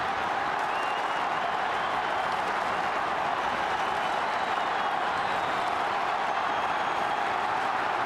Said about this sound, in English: A thunderous roar around AAMI Stadium